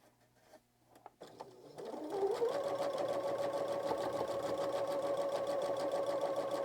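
A sewing machine stitches steadily along the edge of a fabric notebook cover, with a few soft handling clicks first, then the motor rising into a continuous, even whirr that runs to the end.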